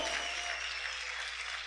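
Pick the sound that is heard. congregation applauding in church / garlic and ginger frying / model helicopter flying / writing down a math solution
congregation applauding in church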